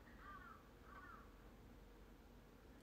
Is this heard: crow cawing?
yes